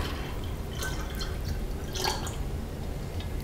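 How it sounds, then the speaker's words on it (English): Dissolved sugar water is poured into a gallon of spring water for homemade kombucha, a soft run of splashes and drips that sits low and faint under steady background hiss, with no talking. "all we're gonna do now is just go ahead and add this to our gallon of spring water"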